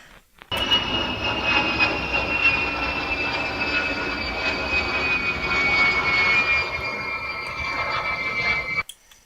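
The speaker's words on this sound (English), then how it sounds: "Sounds like the plane's flying over my house." A spy plane flies overhead at about 1,000 feet, its loud, steady fixed-wing engine drone holding for around eight seconds with a slowly falling whine before cutting off abruptly.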